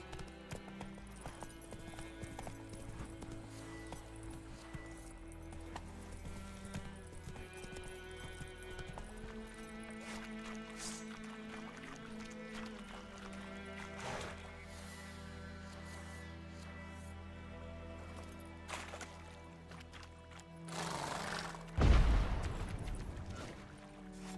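Horse hooves clip-clopping at a steady rhythmic gallop in The Witcher 3 video game, under layered game music, with a short loud burst of impact near the end.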